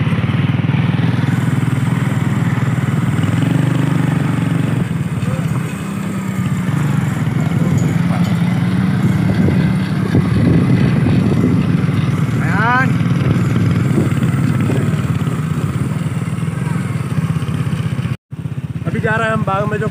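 A small kids' motorbike engine runs steadily nearby, its buzzing note rising and falling with throttle, while people talk over it.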